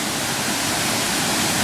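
Devil's Kettle waterfall at Judge C.R. Magney State Park, pouring into a rock pothole, gives a steady, loud, close roar of falling water that fills the whole clip without a break.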